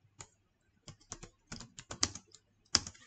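Computer keyboard typing comes in irregular bursts of crisp, close keystrokes with short pauses between them, and no voices.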